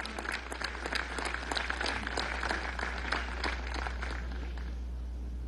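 Sustained applause from a crowd at a presidential military event at Fuerte Tiuna, a dense clatter of many hands clapping at moderate distance that thins and fades out toward the end.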